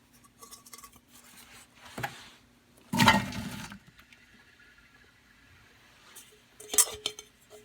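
Chopped onions, about six large ones, tipped into an Instant Pot for restaurant-style base gravy, heard as a few sharp clattering thuds and metallic clinks separated by quiet gaps.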